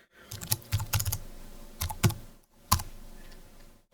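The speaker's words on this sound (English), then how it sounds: "you can come in here and you can type in" Someone types on a computer keyboard close by, giving short bursts of crisp key clicks separated by brief pauses.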